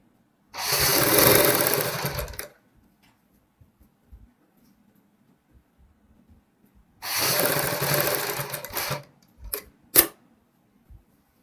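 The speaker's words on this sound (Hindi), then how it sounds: "इसके सेंटर में इस प्रकार हम सिलाई लगाएंगे" A sewing machine stitches a neckline in two runs of steady, close whirring, each about two seconds long, with quiet clicks and a few sharp knocks between and after the runs.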